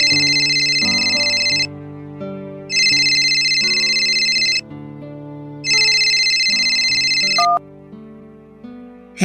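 A telephone rings with an incoming call, sounding three loud electronic ring bursts in a steady pattern with short pauses between them, over soft background music.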